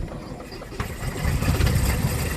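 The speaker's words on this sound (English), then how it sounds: "push the button until the engine starts" A small airplane's propeller engine, started by push button, settles into a steady low idle with a throbbing rumble that grows slightly rougher and louder partway through, with no one talking.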